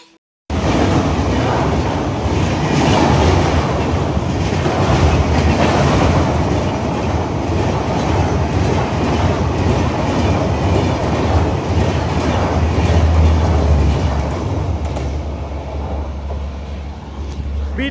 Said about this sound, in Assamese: কিবা মালগাড়ী আছিল